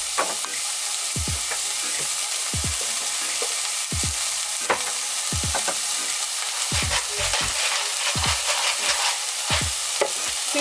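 Onions seasoned with salt and pepper cook in a pan inside an RV kitchen, sizzling steadily up close while a utensil taps and scrapes in a rough repeating rhythm, with no speech.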